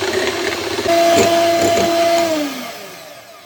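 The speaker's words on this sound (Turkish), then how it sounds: "Şimdi mikserimi şöyle en alt devirde çalıştırıp kremamı kıvama gelene kadar karıştıracağım." An electric mixer or blender whips cream at its lowest speed, a steady close motor whine with a brief rising tone in the middle before it fades.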